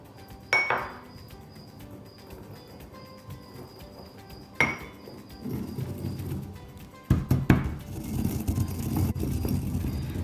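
Whole spices ground in a pestle and mortar for a roasted chickpea curry: a few sharp clinks of the pestle striking the bowl, followed by bursts of gritty grinding and scraping, close and fairly quiet.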